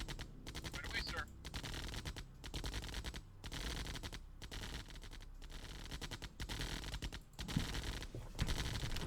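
Units in Command & Conquer Remastered trade rapid gunfire in a steady, dense rattle of shots that runs through the whole stretch, with a few heavier bursts, under battle noise.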